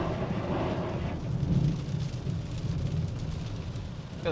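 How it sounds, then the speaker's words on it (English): Thunder rumbles through steady rain during a storm chase on the road, a low swelling boom near the middle over the constant wash of rain and vehicle noise, no voices. "That was a nice thunder."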